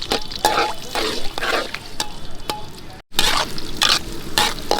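Pasta and onions frying on a street stall pan, loud steady sizzling broken by rhythmic scraping strokes of a spatula, with a brief break partway through.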